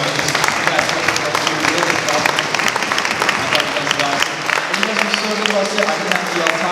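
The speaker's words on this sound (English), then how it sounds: "I just want to do a final round of applause for both these candidates" A town hall audience gives a steady round of applause for two candidates, a dense, loud wash of clapping that keeps going throughout, with a voice faintly underneath.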